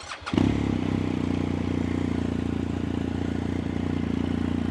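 A 2019 BMW R1250GS Exclusive with 25,000 km on it cranks briefly, fires up and settles into a steady, even idle, close and loud, with no one talking.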